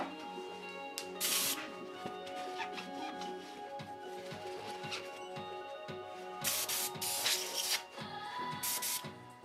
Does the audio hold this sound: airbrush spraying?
yes